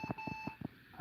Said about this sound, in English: that double beep sounds like it's a RAM problem